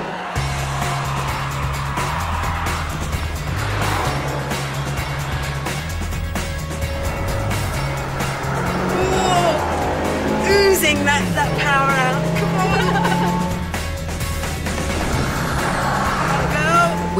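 A Mazda MX-5 sports car driven hard on a track, its engine revving up and down through gear changes while people talk over it with loud wind and road noise.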